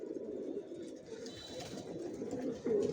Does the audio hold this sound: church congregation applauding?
no